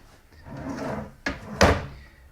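A kitchen drawer in a rented house slides along its runners, then shuts with two sharp, close knocks a moment apart, ending in a soft rattle.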